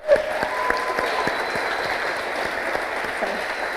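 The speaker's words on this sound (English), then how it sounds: "So, round of applause, please." An audience at a Ruby programming conference talk applauds steadily, a dense wash of clapping that continues without pause for the whole stretch.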